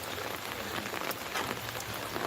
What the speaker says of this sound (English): The heavy rain began more than a week ago